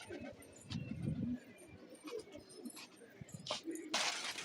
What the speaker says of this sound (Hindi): माशाल्लाह से कबूतर मेरे उड़ गए हैं